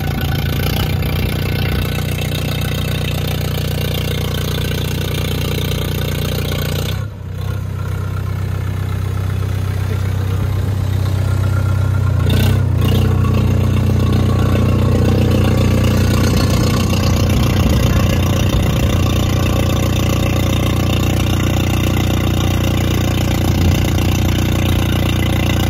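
A Mahindra 585 XP Plus tractor engine runs with its silencer removed, giving a loud, steady, throaty idle that swells briefly as it revs, then settles back into a continuous rumble with no talk.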